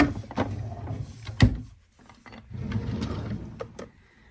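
A makeup storage drawer slides and shuts with rattling, sliding clatter and a sharp knock, then more rummaging and scraping of items, close and moderately loud with no talk.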